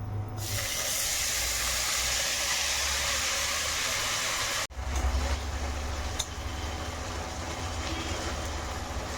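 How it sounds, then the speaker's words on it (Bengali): Fish sizzle in hot oil for a Bengali prawn-and-gourd dish, a steady loud hiss that drops abruptly partway through, then carries on with a fainter crackle. "সব মাছ একসঙ্গে দিয়ে ভালো করে লাল করে ভেজে দেবো"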